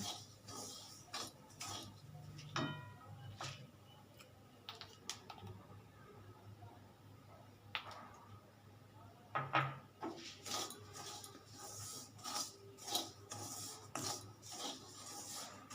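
Semolina dry-roasting with a pinch of salt in a kadai for rava upma, stirred slowly with a spatula. Soft, rasping scrapes and occasional light metal clinks come close but faint, in uneven strokes with no voice.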